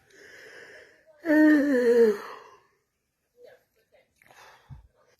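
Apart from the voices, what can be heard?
exaggerated yawning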